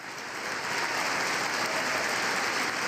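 Sustained applause fills the chamber at the State of the Union, a broad, steady roar of many hands clapping that swells and then holds.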